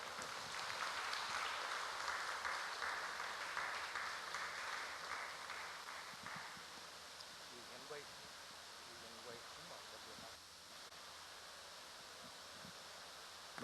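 Applause fills a cathedral during Holy Mass in Eluru, honoring the new rector, Father Paul: a dense, steady wash of many hands clapping for about six seconds, then thinning into softer scattered claps and room murmur.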